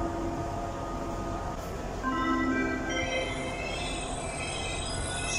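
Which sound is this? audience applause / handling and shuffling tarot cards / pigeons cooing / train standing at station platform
train standing at station platform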